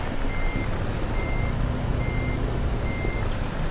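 A truck reversing alarm in Euro Truck Simulator 2 with a haul truck chassis, four steady evenly spaced beeps over a constant low diesel engine rumble.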